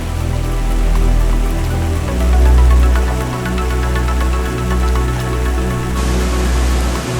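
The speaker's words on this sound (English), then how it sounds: "Started to rain again, and we're hiding under the roof of some abandoned" Steady rain falls in the mountains along the Tour du Mont Blanc while hikers shelter under the roof of an abandoned building, a continuous dense patter with low rumbling swells, fairly loud and close, and no voices.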